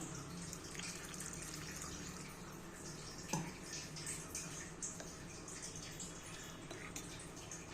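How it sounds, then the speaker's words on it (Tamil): Half a tumbler of water is poured into ground chutney masala in a kitchen, making a faint, continuous trickling and splashing with a few small clinks, close by. "இதில் நம்ம வந்து ஒரு அரை டம்ளர் தண்ணி சேர்த்துக்கலாம்"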